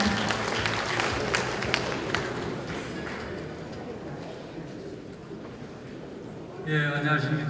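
Steady crowd clapping fills an event hall at a 2017 Confucian leaders' convention as a lawmaker is welcomed to the podium, continuous and even throughout before a voice starts up at the end.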